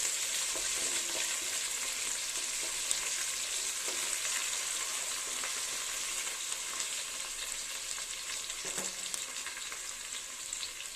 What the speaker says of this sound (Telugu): మనకి ఉల్లిపాయ ముక్కలు కొంచెం లైట్గా బ్రౌన్ కలర్ వచ్చేంత వరకు మనం వేయించుకుందాం